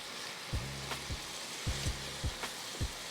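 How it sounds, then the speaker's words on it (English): Onion and jalapeno peppers sauteing in butter, giving a steady faint hiss of frying with a series of low, soft knocks from stirring at an uneven pace, close and without talk. "We're just gonna saute this down, let the onion soften up, let the peppers soften up"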